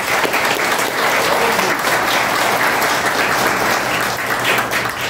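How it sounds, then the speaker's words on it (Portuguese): Loud, dense applause from a gathered audience at a Samaritanas fellowship celebration, sustained clapping at an even level throughout without any talking on top. "Eu queria bater palmas."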